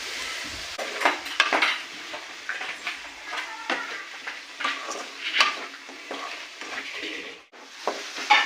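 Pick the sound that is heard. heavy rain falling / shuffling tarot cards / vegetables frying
vegetables frying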